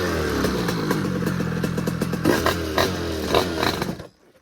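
Motorcycle, an MRT model with a new engine block, ridden close by with a loud, raspy engine rising and falling through revs for about four seconds before cutting out abruptly.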